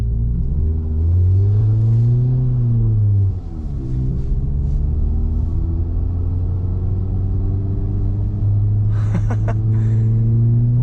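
A tuned Volkswagen Golf R being driven sideways through deep snow in a blizzard, its engine droning loud and steady with rising and falling revs throughout, heard close with no voices.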